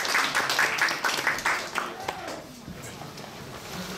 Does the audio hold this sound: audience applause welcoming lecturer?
yes